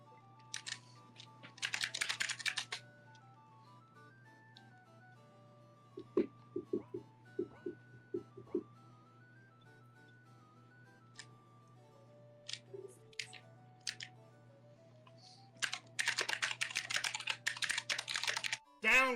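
Computer keyboard keys clatter in bursts of rapid typing, with clusters of sharp clicks near the start and end and a few isolated taps between, over a steady low hum from a gaming setup.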